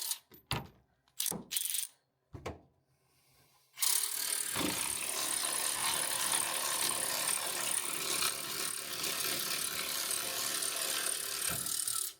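A ratchet with a 15 mm socket works bumper bracket bolts loose on a crunched 2023 GMC Sierra, a few short clicking bursts and pauses first, then a sustained buzzing ratchet whir close by.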